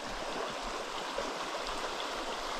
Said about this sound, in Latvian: Viņš tāda smuka upīte. Meža ielokā. Forša straumīti,